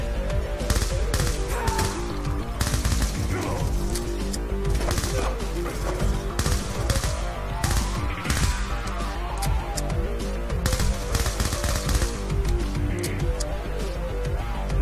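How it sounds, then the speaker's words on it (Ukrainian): An automatic Desert Eagle pistol fires in Call of Duty Black Ops II, a loud, continuous rapid stream of game gunfire with crashing impacts throughout. "Наприклад, Desert Eagle автоматичний."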